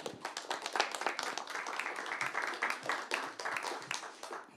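An audience at a literary reading event applauds to welcome the guest speakers, a dense, steady patter of many hands clapping at moderate volume, sustained without talk.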